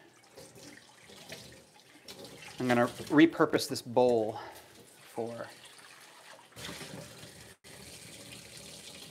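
Warm water runs from a kitchen tap into a bowl, a steady soft splashing stream behind a man's speech that continues faintly after he stops talking.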